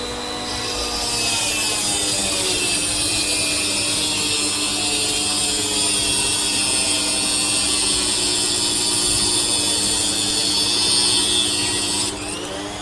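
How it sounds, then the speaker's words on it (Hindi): A rotary tool fitted with a cutting disc slices through metal, a steady high-pitched whine and grinding rasp that runs continuously and loudly for about twelve seconds before easing off at the end. "मैं ये मेटल ही काटता हूँ, देखता हूँ कटता है कि नहीं।"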